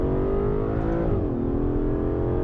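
A 630 hp Aston Martin DB11 AMR engine revs up loud and close, its steady roar dipping in pitch midway before settling into a deep, sustained growl.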